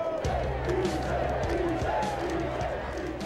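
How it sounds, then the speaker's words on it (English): Sunderland football fans taunting Newcastle rivals at Newcastle Central Station on derby day, a dense crowd roar of shouting and chanting with scattered bangs and yells, continuous and fairly distant. "the victorious Sunderland fans taunt their Newcastle rivals who are growing increasingly agitated"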